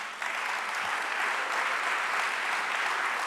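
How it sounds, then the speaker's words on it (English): An audience at a memorial concert claps for the performers, a dense, steady wash of applause that starts abruptly and keeps going without a break. "Let's give them a round of applause"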